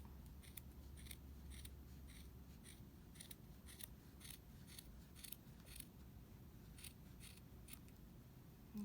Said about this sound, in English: So I'm going to take these scissors, I'm going to trim the loops.